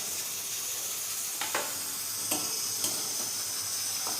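Potato pieces dropped into hot oil in a home kitchen give a steady, close sizzle and frying hiss, with a few brief crackles and pops rising above the constant bubbling.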